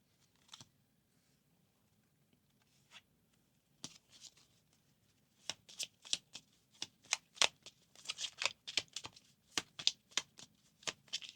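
Tarot cards shuffle by hand, first a few scattered soft riffles, then a faster run of crisp, rhythmic card slaps and flutters, close and quiet, with no talking.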